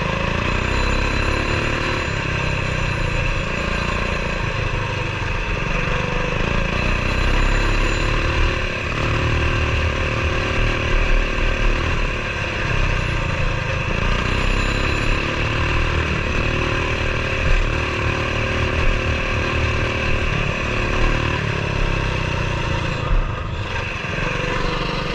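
A Coleman BT200X mini bike with twin chains rides dirt trails, its small engine droning steadily and closely for the whole stretch with slight throttle swells and no talk over it.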